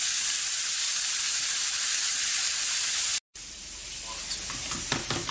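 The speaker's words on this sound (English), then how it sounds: "the pork chops I'm searing" Pork chops searing in a hot pan give a loud, steady hiss that drops out for an instant, then returns more softly with small crackles and pops.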